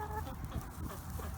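Hens cluck softly in short, scattered bursts, fairly close, with a steady low rumble of background noise underneath.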